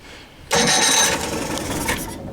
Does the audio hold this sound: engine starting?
yes